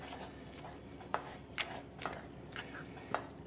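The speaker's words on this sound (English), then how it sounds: "I'm just going to go ahead and start mashing up the avocado inside the bowl here like so." Avocado being mashed with a fork in a bowl, giving soft, close, squelching taps and scrapes in a loose rhythm, about one press every half second.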